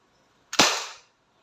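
A single sharp crack from an Umarex Glock 17 Gen 5 airgun pistol, a close, loud snap that decays quickly into silence.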